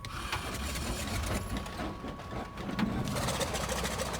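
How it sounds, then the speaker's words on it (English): Sukhoi SU-31 aerobatic aircraft engine in Microsoft Flight Simulator catching on start, a steady mechanical rattling drone that holds loud and continuous throughout, with no voices. "So we do have a good start there, the engine catches quite aggressively"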